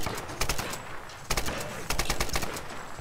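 Bursts of gunfire in the video game Tomb Raider fire in rapid, sharp volleys, with two main clusters of repeated shots separated by a brief lull, fairly loud and without speech.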